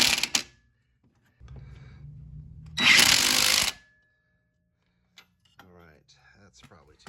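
A power tool snugs up a front strut bolt on a 1996 Oldsmobile Cutlass Ciera, giving a low buzz and then a louder, harsher burst of about a second, with brief quiet talk afterward.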